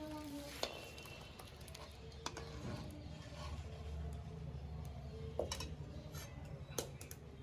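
Chickpea dal being stirred in a pot after garam masala is added, a low steady scraping and simmering bed with a few sharp clicks of the spoon against the rim, fairly faint and close with no talking.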